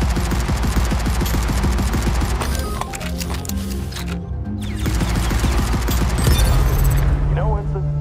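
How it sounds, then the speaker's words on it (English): Rapid gunfire from a heavy weapon in the space shooter Phantom Galaxies, a dense, loud stream of shots with mechanical clatter under game voices and in-game explosions, pausing briefly midway before resuming. "Oh, listen to that gun."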